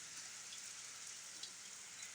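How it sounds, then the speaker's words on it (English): Steady rain during a thunderstorm, a soft, even hiss of drops falling on surfaces with no other sounds, fairly quiet and continuous throughout. "The rain looks like it's letting up."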